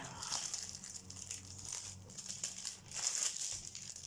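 Packaging from a mail parcel crinkles and rustles up close as it is opened, in soft irregular bursts over a few seconds.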